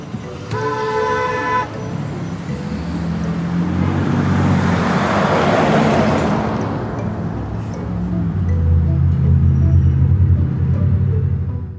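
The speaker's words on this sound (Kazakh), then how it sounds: "Мынау такси." A taxi moving through road traffic, with a few rapid horn toots near the start, then a loud passing engine swell and a steady rumble of surrounding vehicles. No one speaks.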